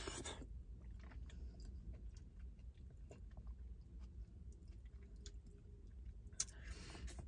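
Someone chewing Nigerian egusi or efo riro, with soft, close, wet mouth sounds and faint bites repeating steadily at low volume.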